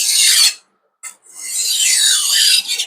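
A kitchen knife being sharpened on a whetstone, close, loud gritty rasping strokes with a brief pause between passes, no voice.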